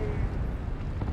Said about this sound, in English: There's an orbital.